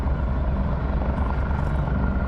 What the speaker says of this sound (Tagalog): Kana helicopter siya.